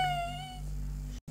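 A single cat meows once, a clear drawn-out call fading over about half a second, fairly quiet over a low background hum, ending in a brief dropout.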